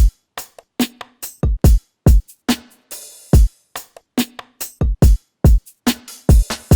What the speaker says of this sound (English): So with the kick and all the percussion together, it sounds like this